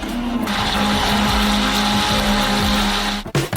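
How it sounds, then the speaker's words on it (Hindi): A steady, loud motorized whir of a blender beating thawed strawberries with sugar, running continuously with a low droning hum, cutting off abruptly near the end. "हम इसे एक ब्लेंडर के साथ अच्छी तरह से बीट करेंगे"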